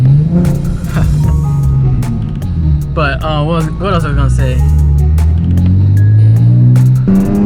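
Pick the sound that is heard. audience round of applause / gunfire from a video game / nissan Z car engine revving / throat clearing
nissan Z car engine revving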